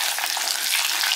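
Garlic frying in hot oil in a pan, a bright, dense, continuous sizzle heard up close with no talking.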